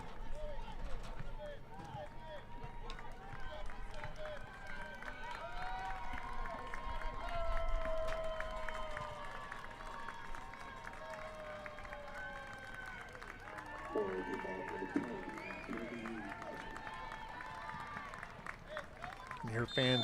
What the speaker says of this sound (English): You hear fans cheering for the Cedar Park T-Wolves.